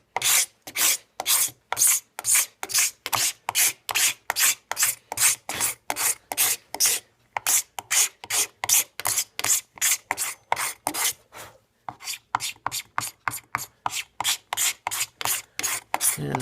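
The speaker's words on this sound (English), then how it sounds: "Now I take a knife that's got a flat surface." A flat-surfaced knife scrapes old finish off a wooden gun stock in long, rhythmic rasping strokes, dozens of close dry scrapes with brief pauses between runs.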